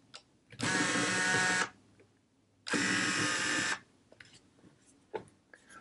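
A Fuji GA645Zi camera's zoom motor whirs in two steady, buzzing runs, each about a second long, with soft clicks before and after, heard up close.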